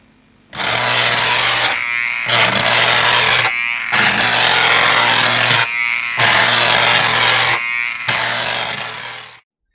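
A small 9-volt battery jitterbug robot's motor buzzes loudly up close, running in several bursts a couple of seconds long separated by brief pauses before cutting off.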